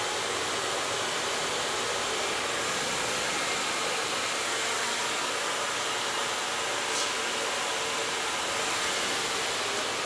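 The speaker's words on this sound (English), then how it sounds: "As you can see, it's drying the hair, but it's not blowing the hair apart." A hair dryer blows steadily on a head of hair during styling, a constant loud broadband whoosh that holds unbroken for about ten seconds with no voices over it.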